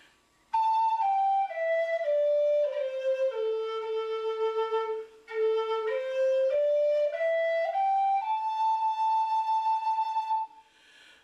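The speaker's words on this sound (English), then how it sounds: "was a Native American flute" A Native American flute plays a slow, breathy tune that steps down through several notes, pauses briefly, then climbs back up to a long held high note, clear and close with nothing else audible.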